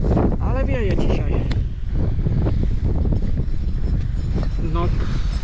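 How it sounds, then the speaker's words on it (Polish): Strong wind blowing outdoors roars and buffets the microphone in heavy low gusts, while people talk over it. "Ale wieje dzisiaj."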